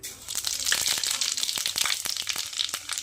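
Bay leaf and whole spices for tempering hitting hot oil for a vegetarian kohlrabi curry, a crackling, spitting sizzle with sharp pops and crinkly bursts, close and fairly quiet, with no voices.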